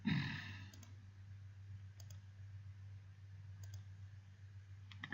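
A computer mouse clicking on a desktop, a few faint paired clicks spaced apart over a quiet low hum, with a soft breath near the start.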